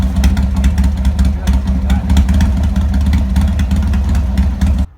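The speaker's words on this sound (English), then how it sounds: "The Sportster just sounds amazing" A Harley-Davidson Sportster motorcycle engine runs up close, a loud, deep, uneven rumbling throb that pulses steadily for a few seconds before stopping abruptly.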